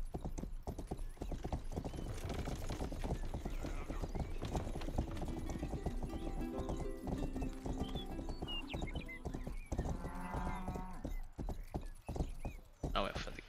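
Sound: horse hooves clip-clopping in video game Rustler

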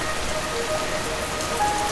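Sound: heavy rain pouring

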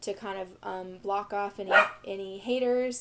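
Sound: dog barking

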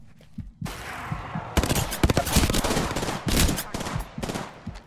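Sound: gunfire from a video game, Apex Legends

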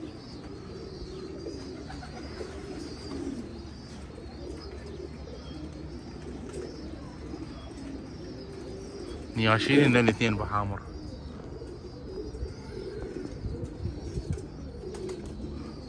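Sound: pigeons cooing in a pigeon loft

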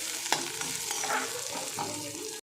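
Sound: onion frying in a pan

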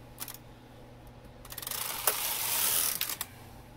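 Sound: knitting machine carriage moving across the needles

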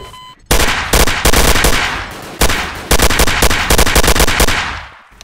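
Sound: gunfire in the video game Garry's Mod DarkRP

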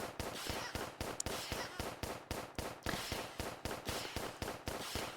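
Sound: gunshots in Roblox video game

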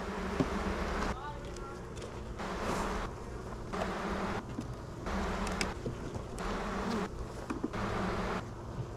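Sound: buzzing of a honeybee hive

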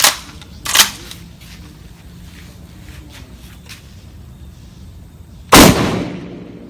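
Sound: Winchester SXP Defender pump shotgun firing 9-pellet buckshot

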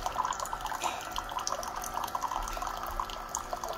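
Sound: hot water dripping from Keurig coffee maker

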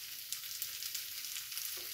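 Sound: oil sizzling while frying fish

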